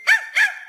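A dog gives two quick, high, close barks in a row on a children's novelty record.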